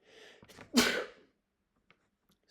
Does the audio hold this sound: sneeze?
yes